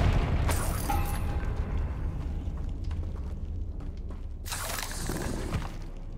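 Hogwarts Legacy Confringo blasting spells going off as a string of bursts and booms, with a strong crackling blast near the middle and another loud one toward the end, all close and full, with no talking.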